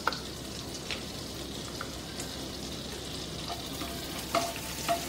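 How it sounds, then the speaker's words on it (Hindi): Bay leaf, a half-inch piece of cinnamon and cumin seeds sauté in melted butter in a kadhai, a steady close sizzle and crackle with occasional small pops and stirring, with no voices. "इसमें हम ये 1 तेज पत्ता, दालचीनी का 1/2 इंच का टुकड़ा और जीरा डालें और इनको एक मिनट सोते कर लेते हैं"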